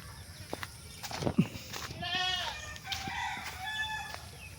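Goats in a farm pen give a few wavering bleats in the middle and later part, moderately close, among scattered clicks and knocks with no talking.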